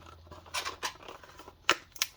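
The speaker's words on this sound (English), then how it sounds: "So let's fold these tabs in." Thick cardboard tabs of a castle pop-up diorama are folded and pressed in, producing close, crisp creases and scrapes with a couple of sharp snaps near the end.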